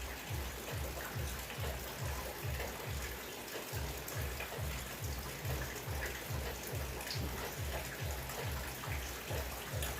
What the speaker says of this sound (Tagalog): Umuulan ngayon. Umuulan dito sa amin.